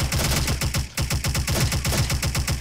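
MG36 machine gun fire in the online shooter Special Force: loud, rapid, evenly spaced automatic shots in one sustained burst with a brief break near the start.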